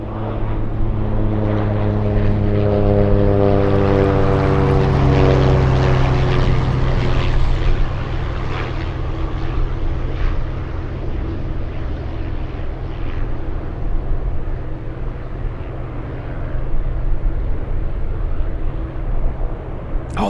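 A Beaver seaplane's piston engine and propeller drone loudly overhead at an Anchorage plane-spotting site, the pitch sliding downward as it passes and then fading into a steady rumble.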